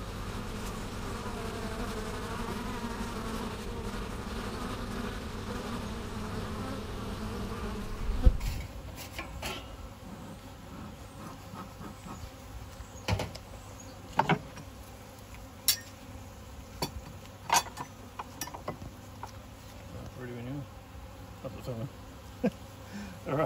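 Honeybees buzzing around an open hive during an inspection of a swarmed colony, a continuous close hum with sharp clicks and knocks of frames and tools, louder and busier at first, then thinner.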